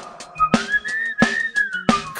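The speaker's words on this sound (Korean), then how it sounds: "자 휘파람 불면서." Whistled melody in a stage musical number from All Shook Up, a clear sustained pitched line gliding up and down across two seconds, punctuated by three sharp rhythmic beats with band accompaniment and no talking.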